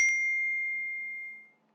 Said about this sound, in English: it emits an audio signal to indicate that the oven is ready to be used and loaded